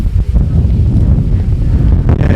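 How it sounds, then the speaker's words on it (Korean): Loud, rumbling wind buffets the microphone continuously outdoors near the Sea of Galilee, a heavy low roar with gusty fluctuations and no other clear sounds. "바람 소리 때문에 잘 들리나 모르겠네요."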